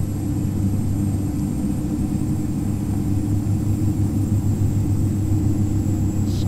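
Simulated Beechcraft 1900D turboprop taxiing in X-Plane 10 as the right engine's power is raised, a loud steady low engine drone with constant humming tones and no talking.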